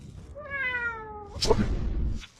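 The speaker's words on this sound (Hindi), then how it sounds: "कभी बिल्ली का आवाज आ रहा है" A single drawn-out cat meow with clear harmonic tones lasts about a second, followed by a short burst of noisy clatter in a comedy sketch.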